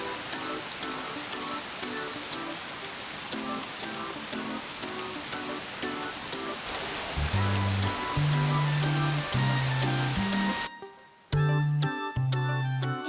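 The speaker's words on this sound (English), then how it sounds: "It's raining." Steady cartoon rain patters on a surface for several seconds, a dense even hiss, joined midway by bright musical tones and a short dropout near the end.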